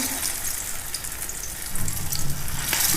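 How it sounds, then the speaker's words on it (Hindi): Aloo tikki potato cutlets frying in a little hot oil, a steady close hiss and crackle of sizzling that thickens slightly partway through, with no voices. "अब हम फ्राई करते हैं अपनी टिक्कियों को।"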